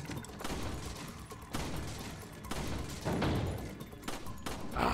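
Gunfire in the Resident Evil video game: a dense fusillade of shots and heavy thumps repeating across the clip at steady, fairly loud level, with no talking.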